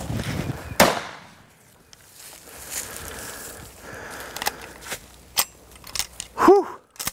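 A single sharp rifle report rings out early as a Cape buffalo is shot in the Zimbabwe bush, followed by quiet rustling, small clicks and soft movement sounds.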